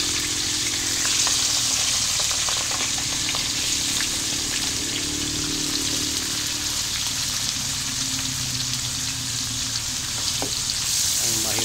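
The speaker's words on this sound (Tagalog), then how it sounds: "piniprito na yung tokwa" Tofu (tokwa) frying in hot oil, a steady dense sizzle and crackle that runs the whole time, with soft pops and occasional faint movement, no talking.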